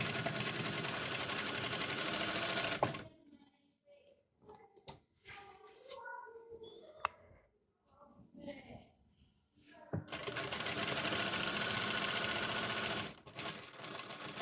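A domestic sewing machine stitches a seam on a garment, starting with a backstitch: loud steady whirring runs, a quiet stretch of handling noises, then the motor runs again, under occasional speech.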